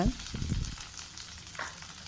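Curry leaves with dried and green chillies drop into hot oil, setting off a sharp spluttering burst and a few low thumps before the frying settles into a steady close sizzle.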